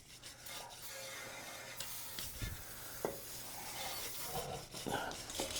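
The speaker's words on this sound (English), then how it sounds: "You want a wire brush? It wouldn't hurt. Get some of that brake dust off of there." Wire brush scrubbing brake dust off the brake of a 2016 GMC Sierra in a garage, a steady close rasping scrape running throughout with a few sharper strokes and no talk.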